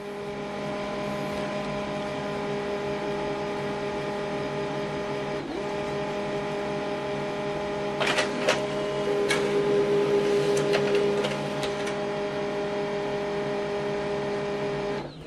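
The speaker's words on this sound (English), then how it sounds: "Now this document is printing." An HP LaserJet M140WE laser printer prints a document on both sides, giving a quiet, steady mechanical hum with a cluster of clicks and rattling paper-feed noises toward the end.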